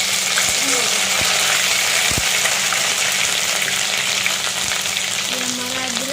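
Ginger sizzles loudly in hot oil with cumin seeds in a kadhai, a dense, bright, continuous hiss close up with a few soft stirring knocks.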